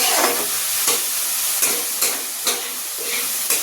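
Chicken with onion and tomato being sautéed in a pan without oil, a loud, close sizzle and steam hiss broken by regular scraping strokes from stirring, no voices over it.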